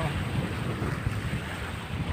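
Blustery seaside wind at San Jose, Tacloban Bay, buffets close by over a low, churning rush of waves, continuous and fairly loud for the whole short stretch.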